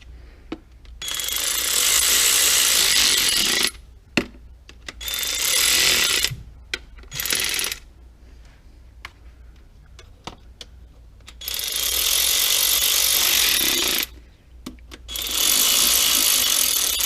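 A ratchet tightening bolts on a BMW DCT transmission during service, several long bursts of rapid loud clicking separated by pauses and a few knocks, close by with no talking.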